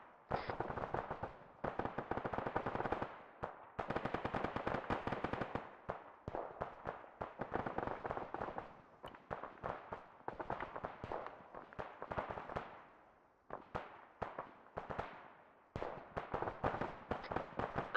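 Suppressive base fire in Arma 3: repeated bursts of automatic gunfire, some long and some short, separated by brief pauses and heard at moderate distance.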